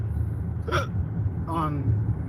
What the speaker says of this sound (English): Oh no, I got hiccups.